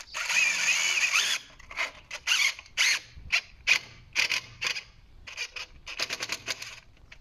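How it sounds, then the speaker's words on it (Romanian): A power drill drives mounting screws into an aerated concrete block wall on a construction site, with repeated loud whirring bursts and short pauses as each screw bites and tightens, close up. "E perete din BCA, așa că o să prindem cu șuruburi pentru montaj."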